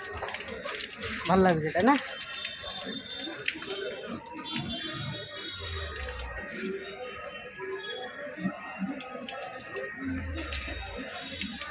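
Water gushes steadily from an opened tap at a Baruni fair in Indupur village, Kendrapada, with a continuous splashing flow while people talk nearby.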